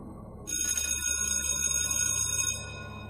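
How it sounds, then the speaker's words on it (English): A steady, bright electric hallway bell rings continuously for about two seconds, loud and metallic, then cuts off. "A ringing hallway bell."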